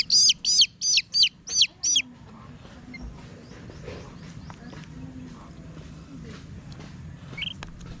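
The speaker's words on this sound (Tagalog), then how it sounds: "papalakihin pala natin itong mga sisiw natin na kasama yung nanay" Chicks with their mother hen among fighting-cock poultry: six rapid, loud high peeping calls in a burst at the start, then quieter clucking and faint background noise.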